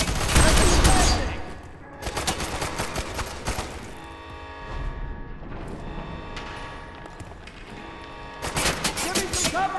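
Sustained gunfire and bursts in the F.E.A.R. 3 shooter, loud at the start and end with a quieter stretch between, mixed with game combat noise and soldiers' shouted callouts.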